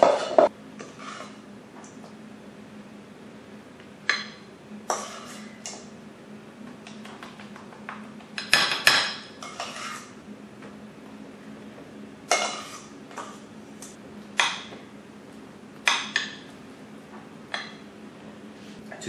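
Apple crisp topping ingredients, peanut butter among them, mixed in a bowl, heard as intermittent clinks and scrapes of a utensil against the dish, spaced irregularly over a quiet background hum.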